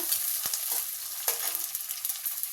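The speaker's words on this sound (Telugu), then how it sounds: "రెండు పచ్చిమిరకాయలను ఒక పెద్ద ఉల్లిపాయ ఫ్రై చేసుకున్నా" Onion and green chillies frying in oil with mustard and cumin, a dense, close crackling sizzle with a few sharper pops and stirring scrapes, no voices.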